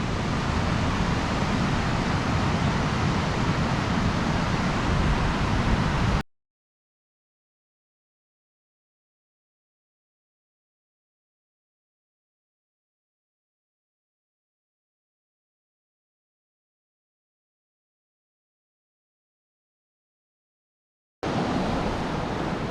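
The roar of Boucher Rapids on the river in the Grand Canyon is a loud, steady broadband rush. It fills the opening seconds, drops out completely through the middle, then returns at the very end.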